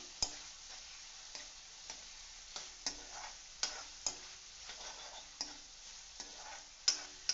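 Citron (narthangai) pieces sauté in a pan for pickle, a quiet, even sizzle broken by regular soft taps and scrapes of a spoon every half second or so, close and low in level with no talk.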